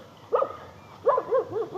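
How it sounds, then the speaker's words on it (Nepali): Dog barking outdoors in the rain on a rough hill road, one bark then a quick run of three or four barks, moderately close, with no talk. "कुकुर पनि भुकिरहेको छ हैन।"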